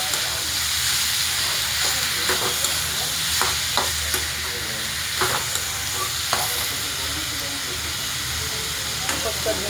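Onion and tomato fry in a kadhai with a continuous loud sizzle and hiss, while a spoon scrapes and stirs at irregular moments throughout.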